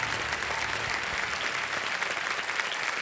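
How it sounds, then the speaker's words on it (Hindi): A studio audience on KBC (Kaun Banega Crorepati) claps in a thick, continuous burst of applause, loud and even across the whole stretch, with no voice standing out. "तालियां बज जाए इनके लिए।"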